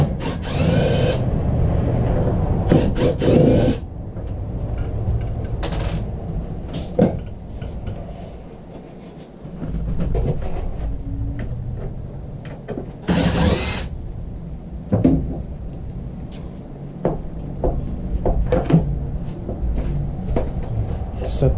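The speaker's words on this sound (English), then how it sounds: "let's go ahead and take the hinges off." Hinges are being unscrewed from the doors of a Dometic RV refrigerator, giving intermittent clicks, taps and short bursts of a cordless driver, close and moderately loud, with talk running through.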